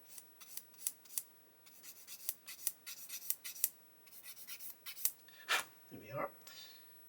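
Plastic sprue gates sanded off parts of a 1/9 scale Honda CBR1000RR-R Fireblade SP model kit: close, rapid rasping strokes in short bursts with brief pauses, fairly quiet, with a little faint handling noise toward the end.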